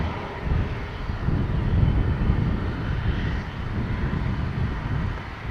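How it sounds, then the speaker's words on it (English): An airliner powered by Rolls-Royce Trent 700 engines roars at Dublin Airport, a broad, steady jet rumble that swells slightly and carries some wind noise, with no voices. "So, Rolls-Royce Trent 700s on this one."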